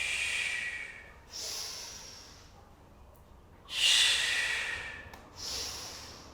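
Heavy, hissing breaths come in four long waves, inhales and exhales with pauses between, close and loud during a follow-along hip exercise workout, with no talk.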